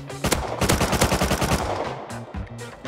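Rapid gunfire from a firefight in the survival game Rust, a dense burst of repeated shots in quick rhythmic succession, loud and close, thinning into scattered shots toward the end.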